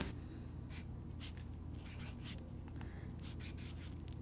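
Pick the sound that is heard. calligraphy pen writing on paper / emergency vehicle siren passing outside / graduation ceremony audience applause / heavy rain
calligraphy pen writing on paper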